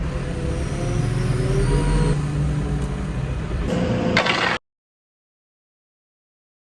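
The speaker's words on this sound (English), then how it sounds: "Second lorry is just going to park out there" A Blue Wilson lorry's diesel engine idles and rumbles nearby as it manoeuvres to park, a low steady drone with some rattling, cutting off abruptly into silence.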